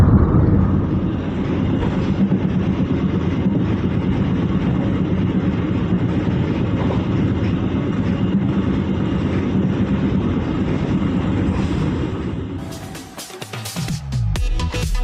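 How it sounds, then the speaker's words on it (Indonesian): Heard from on board, the Bangunkarta economy-class train runs near Cakung station in Jakarta with a loud, steady rumble and roar of wheels and carriage. The roar drops away near the end, giving way to scattered clattering knocks. "perjalanan kereta api Bangunkarta telah masuk di wilayah DKI Jakarta"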